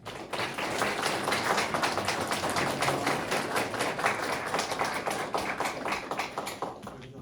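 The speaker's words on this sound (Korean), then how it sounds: "강연해 주실 김한규 대표님을 큰 박수로 환영해 주시기 바랍니다." Audience clapping welcoming a guest speaker at a youth entrepreneurship talk, a steady, moderately quiet patter of many hands that continues evenly before fading slightly at the end.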